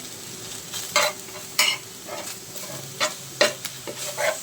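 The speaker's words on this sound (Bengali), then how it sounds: "মুরগির মাংসগুলো ভেজে নিচ্ছি।" Chicken pieces fry in a wok-style pan with a constant crackling sizzle, broken by repeated scraping strokes of a spatula every second or so, close and with no talking.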